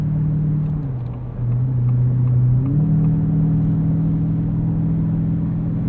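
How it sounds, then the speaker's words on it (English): A 2024 Ford F-150 Raptor R's 720 hp V8 exhaust in Baja mode gives a loud, steady, deep rumble whose pitch dips briefly and then rises again as the engine idles and revs slightly. "we're gonna go into Baja exhaust mode for just a second"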